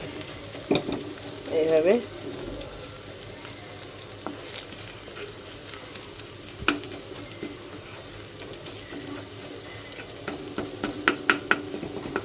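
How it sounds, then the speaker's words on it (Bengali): Dried fish (shutki) fries in hot oil in a home kitchen pan, giving a low steady sizzle broken by scattered scrapes and clinks of stirring, with a few brief spoken words over it. "শুটকিটা কিন্তু আমি ভালোভাবে ভেজে নিচ্ছি"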